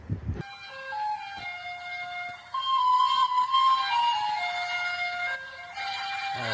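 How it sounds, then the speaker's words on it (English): A garbage truck in Taiwan plays its melody through a loudspeaker, a clear tinkling electronic tune heard steadily in the street over faint traffic rumble, with no talking. "When you hear that music, that means it's time to take out your garbage."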